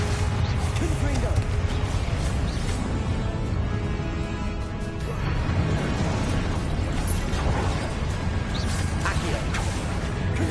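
Confringo fire spell blasts in Hogwarts Legacy, bursting pops and booms amid dense game combat noise, with a voice calling out spells throughout.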